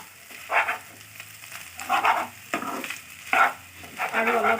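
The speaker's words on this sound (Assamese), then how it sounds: "আৰু অলপ ভাজিলে হৈ যাব।" Fish roe fries in a pan, sizzling in bursts as it is stirred and turned, with short scraping strokes repeating every second or so, close and fairly loud.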